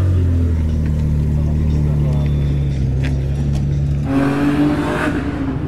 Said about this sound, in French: Petit Alpha de circuit.